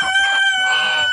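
A rooster crows once, loud and close, a drawn-out shrill call.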